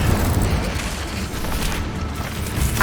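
Incendio fire spell cast in the Hogwarts Legacy video game, a loud, steady fiery roar and whoosh that fills the whole moment without letup.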